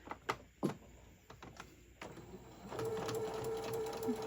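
A sewing machine stitches a summer tote bag, a few clicks and handling bumps first, then a steady, even motor whir with rapid needle rhythm for the last couple of seconds, close and fairly quiet.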